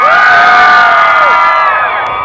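A large concert crowd roars with shouts and cheers in one loud sustained swell that slowly fades, with high whoops rising above the mass of voices.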